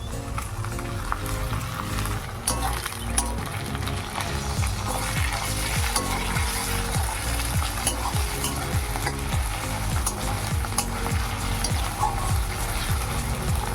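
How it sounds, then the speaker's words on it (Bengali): Steady sizzling of onions frying in a hot pan, with repeated scraping and stirring strokes throughout, close and fairly loud. "এবার এটাকে লাল লাল করে ভাজা ভাজা করে নেবো।"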